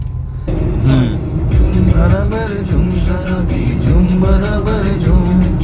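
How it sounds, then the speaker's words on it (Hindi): Heavy traffic jam on a packed service road beside a main road near Delhi, with trucks and buses crowding in: a steady, loud rumble of idling and creeping engines, with voices talking over it throughout. "सर्विस रोड भी पूरी जाम है। ट्रक घुस गए, बस घुस गए, सब घुस गए।"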